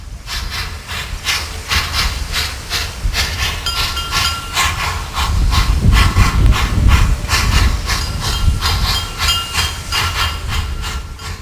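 Steam locomotive at a sugar mill in East Java, Indonesia, fired with firewood and coconut husks, gives off loud continuous hissing with rhythmic chuffing bursts as it moves slowly, with a deeper rumble swelling midway.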